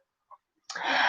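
A single sharp sneeze bursts out near the end after a faint intake of breath, loud and close in an otherwise quiet room.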